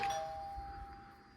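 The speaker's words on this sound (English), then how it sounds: "Doorbell does work." A house doorbell chimes once at a front door, a clear ringing tone that fades quietly over about a second with faint background hiss.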